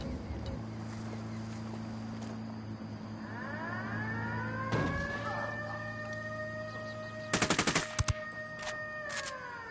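A quick burst of rapid gunfire in Ghost Recon Wildlands, a tight string of sharp cracks followed by a couple of single shots, sits over a steady engine hum with faint voices.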